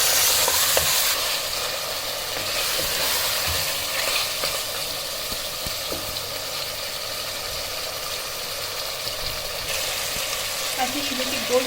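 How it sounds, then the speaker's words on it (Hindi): Meat (gosht) fries on high flame with onion, ginger and garlic for an arvi gosht salan. There is a constant close sizzle with occasional scraping stirs in the pan. "इसको 4 से 5 मिनट तक हाई फ्लेम पे अच्छे से मैं भूनूंगी गोश्त को"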